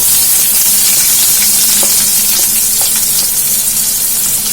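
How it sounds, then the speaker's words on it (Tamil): Chopped onion sizzling loudly in hot oil with mustard seeds and cumin, a steady dense frying hiss throughout, with a few faint stirring clicks. "ஒரு பெரிய வெங்காயம் வந்து நல்லா சின்னதா கட் பண்ணி வச்சிருக்கேன், அதை நம்ம இதுல போட்டுக்கலாம்."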